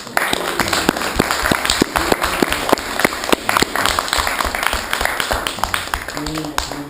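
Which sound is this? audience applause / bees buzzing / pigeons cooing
audience applause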